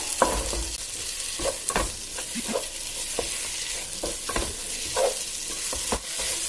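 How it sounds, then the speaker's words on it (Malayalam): Eggs being mixed with masala in a frying pan: a steady sizzle with repeated scraping stirs of a spatula, close and fairly loud, no voices. "എന്നിട്ട് മുട്ടയ്ക്ക് നന്നായിട്ട് മസാല പിടിക്കുന്ന രീതിയിൽ മിക്സ് ചെയ്യാം."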